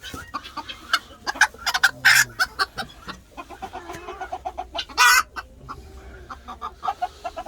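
Hens cluck repeatedly in short, irregular bursts during egg collecting, with several birds close by and a few louder squawks breaking through.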